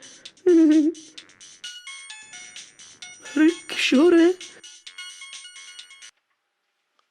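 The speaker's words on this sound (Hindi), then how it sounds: "टूटे हुए फोन पे फोन कैसे आ रहा है?" A bright electronic mobile ringtone melody repeats nearby while someone speaks briefly over it, then it cuts off, leaving silence.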